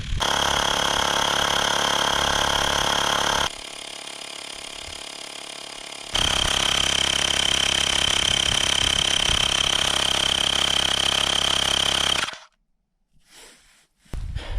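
A Xiaomi electric air pump inflating a tire runs with a steady, loud, high-pitched whine, dips quieter for a few seconds, resumes at full strength, then cuts off abruptly, leaving faint handling noises.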